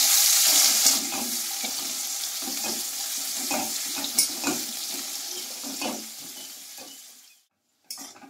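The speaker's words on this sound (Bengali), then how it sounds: "পেঁয়াজ কুচিটা দিয়ে লাল লাল করে পেঁয়াজটাকে ভেজে নিতে হবে" Chopped onion sizzles steadily in a hot pan for a Bengali tangra fish curry with raw banana, with stirring scrapes over the frying before a sudden stop and a brief return of sizzle.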